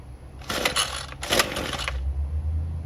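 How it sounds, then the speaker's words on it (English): A Ryobi gas string trimmer on full choke is started: two quick rasping pull-cord yanks close by, followed by a low rumbling engine tone as it catches, with no talking. "we're gonna put it in full choke and we're gonna try to start it"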